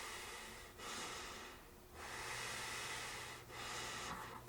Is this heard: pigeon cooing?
no